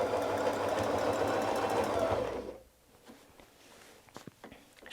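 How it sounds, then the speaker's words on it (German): A domestic sewing machine doing free-motion ruler work, quilting a dahlia pattern and stitching back and forth, hums steadily and loud at close range for over two seconds, then stops, leaving faint handling taps and rustles. "Und wir nähen zurück. Nähen zur anderen Seite."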